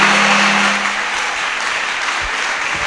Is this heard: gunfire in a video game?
no